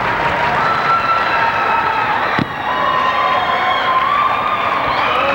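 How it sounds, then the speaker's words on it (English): Dense, steady crowd cheering and applause fills a high school hockey rink during a 1988 St. Peter's Prep vs. Hudson Catholic game, loud and continuous with a brief dip midway. "Uh-oh, cheering crowd."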